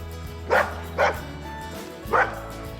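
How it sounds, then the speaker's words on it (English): One dog from a household with a golden retriever and two Labradors barks three times, loud and close. Two barks come in quick succession and a third follows after a short pause, over a low steady background hum. "No, don't bark at me."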